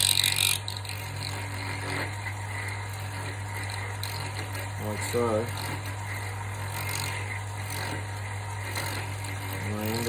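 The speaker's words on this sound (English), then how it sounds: "I can keep cutting sideways like this, backwards and forwards." A cutting tool bores a rectangular knife tang socket into wood spinning on a lathe, working sideways back and forth against a steady motor hum with ratcheting scrapes. A voice speaks briefly.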